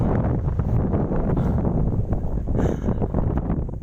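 Strong wind roars across the summit of Mount Coppo Tille, battering the microphone with loud, constant, gusty rumbling and no talk.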